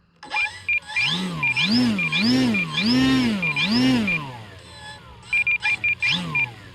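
An E-flite Valiant RC plane flies with noisy wheel pants, a whining warble that swoops up and down in repeated rising-falling sweeps, loud and close, with short beeping tones interspersed.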